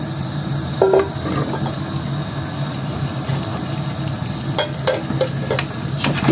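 Potato and meat fry together in a pan with a steady, close sizzling hiss, while a spoon stirs and scrapes through the pieces, adding a few sharp clicks toward the end.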